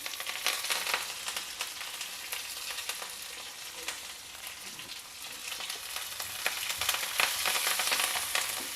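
Green chilies split open and curry leaves frying in hot oil give a steady, dense sizzle with crackling pops throughout, close and continuous, no voices.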